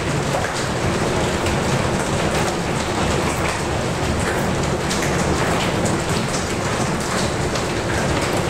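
Heavy thunderstorm rain pours down steadily and loudly throughout, a dense unbroken hiss of drops hitting surfaces, with no voices.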